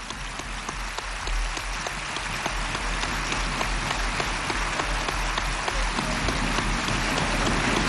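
An assembly at the 1993 sovereign national conference applauds to adopt its internal rules by acclamation, a dense, steady roar of many hands clapping, sustained and unbroken for several seconds with no voices above it.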